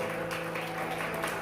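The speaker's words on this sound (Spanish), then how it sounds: "Den un aplauso a Papá Dios esta mañana." A church congregation claps together during a Spanish-language service, a brief, moderately loud burst of applause over a faint sustained background tone.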